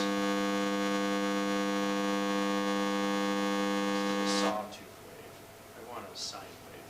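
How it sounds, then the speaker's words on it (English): A steady 500 hertz sine test tone holds loud and unbroken for about four and a half seconds, then cuts off abruptly, leaving faint room noise and a brief voice. "Now let's listen to 500 hertz, same sine wave."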